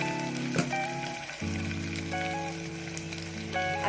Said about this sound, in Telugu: చామగడ్డ మనకి ఆయిల్లో ఫ్రై అయిపోయింది కదా.